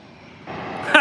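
Airbus A330 engines at San Diego Airport give off a building roar that grows louder, joined by a sharper burst near the end.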